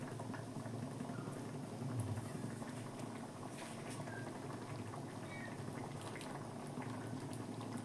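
Curry simmering and bubbling in a pan, a steady close boil with soft popping and patter running the whole time, with no talk over it.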